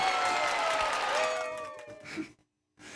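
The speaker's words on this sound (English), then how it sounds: "everybody gets a clap and a holler" A canned applause and cheering effect played during a music gear live stream, a loud burst of crowd clapping and hollering that fades out, followed by a brief silence and then the start of another sound.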